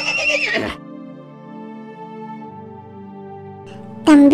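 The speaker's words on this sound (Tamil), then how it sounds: "சிறுவனே, இந்த குதிரையில் ஏறிப்போ" Horse neighing in a loud shaky whinny at the start, followed by a sustained musical drone, then a second sharp whinny bursts in at the end.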